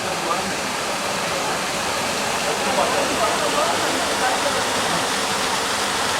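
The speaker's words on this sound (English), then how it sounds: "Sitting by the water in the middle of the desert." Water rushing steadily beside a desert oasis in Israel, a loud continuous broadband roar like a small waterfall, unbroken and close.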